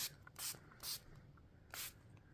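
Three short, airy bursts of a spray bottle spritzing, quiet and close, with a brief pause between the second and third spray.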